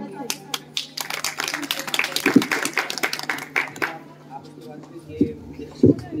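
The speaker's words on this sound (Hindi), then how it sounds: "जोरदार तालियों से स्वागत करिए" An audience at a Republic Day award program bursts into applause to welcome a class 12 student, dense clapping for about four seconds that then thins to a few scattered claps.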